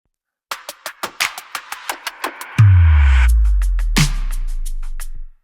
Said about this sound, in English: but then I have a fill